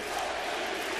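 A ballpark crowd of 40,000 roars and chants MVP as a catcher closes in on his 60th home run, a dense, steady wash of massed voices filling the stadium without a break.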